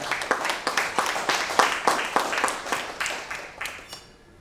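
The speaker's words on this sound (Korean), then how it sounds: "다시 한 박수 부탁드리겠습니다" At a newspaper's 22nd anniversary ceremony attended by lawmakers, a small crowd claps in a fairly rhythmic burst of distinct hand claps that thins out and fades near the end.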